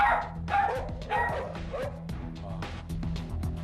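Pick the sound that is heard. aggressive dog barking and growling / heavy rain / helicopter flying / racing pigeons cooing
aggressive dog barking and growling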